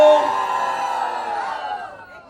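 A crowd at an anniversary celebration shouts and cheers together in a loud, dense burst that gradually fades over a couple of seconds.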